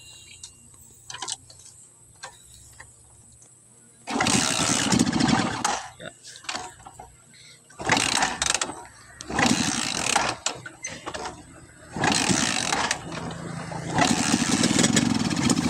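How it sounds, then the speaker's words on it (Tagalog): A motorcycle engine with a faulty spark plug cranks and sputters in uneven bursts, catching roughly and misfiring between short quiet gaps, loud and close. "Kung napansin nyo at narinig nyo yung tunog ng makina niya, palyado siya at hirap umandar."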